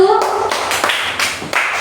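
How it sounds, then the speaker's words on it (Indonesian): A classroom breaks into brief clapping for a student group, a few loose bursts of hand claps close by, with a short voice tone at the start. "tepuk tangan untuk kelompok 1."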